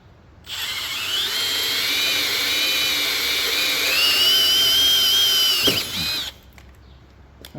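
A power drill bores into a forklift's solid metal body while mounting safety lights, a loud close whine held steady for several seconds, then it stops and a few clanks follow.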